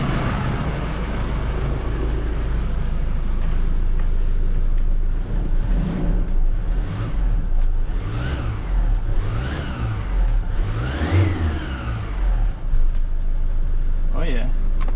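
A 2018 Ford Raptor truck, fitted with a turbo and recently repaired for an underboost fault, driving along with its engine repeatedly accelerating and shifting through rising and falling revs, steady and close throughout.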